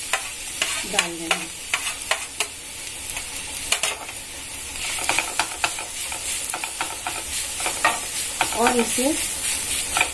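Grated onion frying in a pan for an arbi and aloo masala sabzi, sizzling loudly with repeated stirring scrapes throughout, while someone speaks briefly over the cooking.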